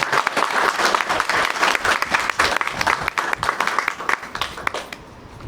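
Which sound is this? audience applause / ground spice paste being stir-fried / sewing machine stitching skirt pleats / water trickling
audience applause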